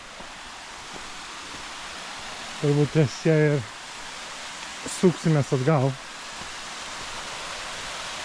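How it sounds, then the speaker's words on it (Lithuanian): A waterfall in Italy roars as a steady broadband rush throughout, with two short bursts of speech over it midway. "Ir štai priėjom krioklį."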